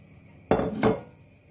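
Soaked beans are tipped into a pot of wheat bulgur soup, giving two quick clattering, splashing impacts close by, then quiet.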